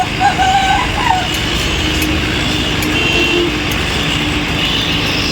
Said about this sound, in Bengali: তারা এখানে অনেক শক্তিশালী একটি গ্রাইন্ডিং মেশিন ইউজ করতেছে।